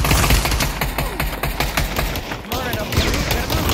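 Rapid automatic gunfire in the Pavlov VR shooter, dense bursts of close, loud shots rattling almost continuously with brief gaps.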